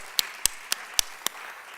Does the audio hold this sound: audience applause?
yes